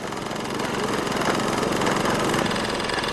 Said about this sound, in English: drilling rig in operation